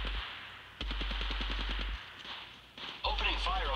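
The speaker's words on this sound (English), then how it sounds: "Opening fire on the enemy." Automatic gunfire in the video game Apex Legends, rapid loud bursts of shots in quick succession, several separate volleys with brief gaps between them.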